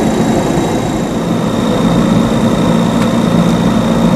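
Onboard air compressor driven by a truck engine at high idle around 1200 RPM, a loud steady mechanical drone with a low engine rumble, continuous and close.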